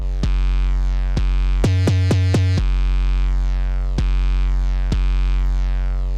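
Logic ES2 synth patch run through a bit crusher, distortion and EQ: a gritty, buzzy bass tone rich in harsh overtones, struck in sparse hits with a quick burst of four rapid stutters early on, alone and loud.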